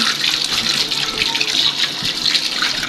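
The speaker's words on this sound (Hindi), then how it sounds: "ये मैं तवा धो रही हूँ" A tava griddle being washed under a running kitchen tap, with water splashing steadily against the metal pan, loud and close, continuous hiss throughout without talking.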